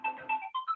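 A mobile phone ringtone plays as a short melodic phrase of a few bright tones, clear and moderately loud in a quiet room.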